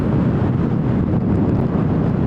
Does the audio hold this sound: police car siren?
no